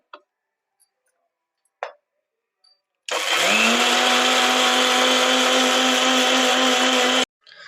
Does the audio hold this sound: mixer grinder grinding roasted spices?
yes